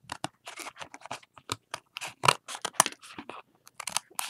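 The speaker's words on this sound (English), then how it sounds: "So I'm going to cut with my best scissors" Sharp scissors snipping through stiff paper for a mixed media book cover, a quick run of close, crisp cuts with short pauses between snips.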